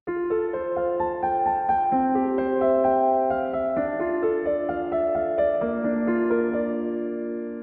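Close-miked piano with HOFA IQ Reverb applied, playing a steady sequence of sustained chords and melody notes with a lush reverberant tail, heard alone.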